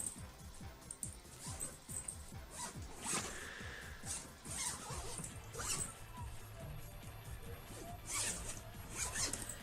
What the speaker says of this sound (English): It zips.